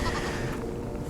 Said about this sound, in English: This is Adam over here. Dwarf Nigerian